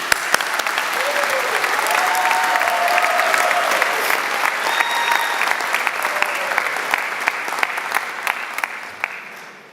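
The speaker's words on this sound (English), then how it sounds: "let us give them a big round of applause" Sustained applause from a large audience at a graduation ceremony, a dense steady wash of clapping lasting nearly ten seconds before tapering at the end.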